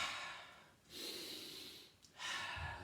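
Exaggerated, forceful breaths come in two or three strong bursts, heard close and alone, as someone works through a boxing movement.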